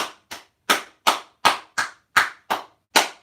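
Hands clap a steady beat, about nine sharp, evenly spaced claps in a little over three seconds, close and fairly loud with nothing else heard.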